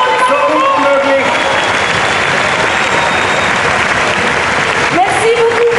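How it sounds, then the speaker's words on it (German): Loud audience applause and crowd noise at the opening ceremony of an international folklore festival in Fribourg, continuous dense clapping, with a host's voice speaking over the start and end. "faites du bruit pour les artistes de RFI. Großen Applaus."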